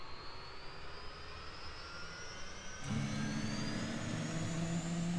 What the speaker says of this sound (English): Small little turbine back there.